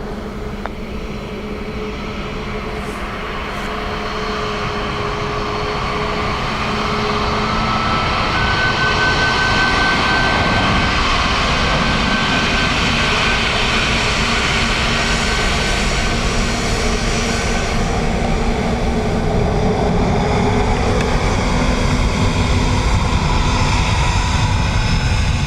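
An airliner at Dublin Airport builds from a distant drone into a loud, steady engine roar that holds for over twenty seconds with no voices.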